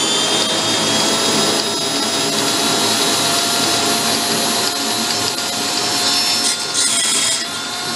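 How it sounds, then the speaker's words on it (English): A power drill whines loudly and steadily for the whole stretch, drilling into an old Harley cart transaxle from a scrapyard, a dense high-pitched grinding drone with no pauses and no talking. "let me get a drill"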